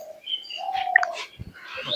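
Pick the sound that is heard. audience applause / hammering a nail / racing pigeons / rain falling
racing pigeons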